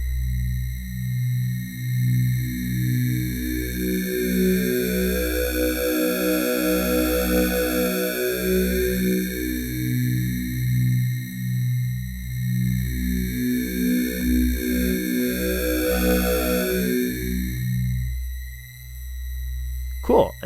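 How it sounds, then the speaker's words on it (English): A Sonicware LIVEN 8-Bit Warps synthesizer, a beta prototype, plays a sustained electronic tone built from two operators. A bright sweeping overtone rises and falls twice over a steady low drone, growing richer and buzzier, with no voice over it. "you're going to hear it kind of get brighter and richer sounding"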